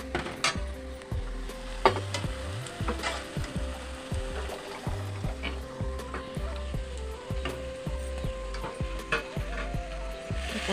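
Boiled taro hitting a hot pan for an Assamese taro dish, giving a steady crackling sizzle with rhythmic scraping and stirring clatter throughout, fairly close.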